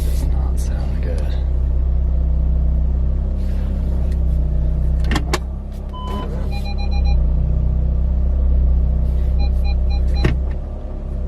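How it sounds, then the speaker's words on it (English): A car with a bad-sounding transmission pulls in, a loud low rumbling drone with whining tones throughout, punctuated by a few clunks and brief beeps, with a person talking over it. "This transmission does not sound good."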